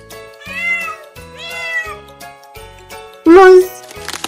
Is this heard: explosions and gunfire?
no